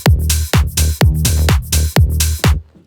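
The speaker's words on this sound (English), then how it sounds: "if we check the drums together with the bass, it sounds like this." Electronic dance track drums and bass playing together: a loud, punchy kick lands on every beat with a deep, sustained bass between hits and bright high percussion, ending abruptly.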